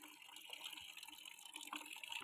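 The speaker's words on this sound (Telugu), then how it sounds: "ఇప్పుడు నీకు వాటర్ పడుతున్నాయి కదా" Water runs steadily from a tap, likely into a bucket, a soft continuous splashing rush that stays faint and even throughout.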